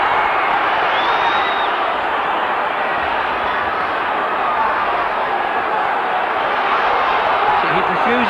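A dense, steady roar from a large boxing crowd, loud and continuous with no breaks, cheering as a heavy background wash under the fight.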